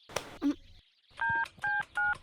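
A mobile phone keypad sounds three evenly spaced dialing beeps, each a short steady tone, after a couple of brief faint clicks, heard close and fairly quiet.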